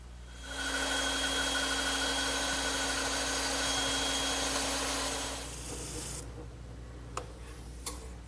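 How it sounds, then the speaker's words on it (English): A bandsaw cutting wood gives a loud, steady machine whine with a constant high tone for several seconds, then winds down and stops, leaving a couple of faint clicks. "I'll just trace the outline and cut it over on my bandsaw."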